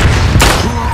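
A mortar or artillery shell explodes in the World War I shooter Verdun, one heavy close blast rising sharply out of a dense, noisy rumble of battle.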